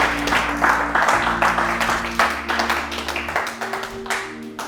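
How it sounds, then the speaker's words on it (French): A church congregation applauds and cheers in praise of the Lord, a dense, steady roll of many hands clapping for several seconds, loud and close, with a sustained low hum underneath. "Les saints acclament le Seigneur."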